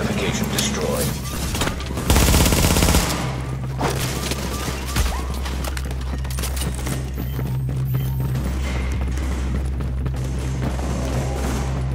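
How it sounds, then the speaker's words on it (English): Hostiles in The Division fire on a fortification, producing a loud, dense stretch of rapid gunfire with heavy booms early on, then continuing as a busy layered battle din at moderate level. "Hostiles are firing on a fortification."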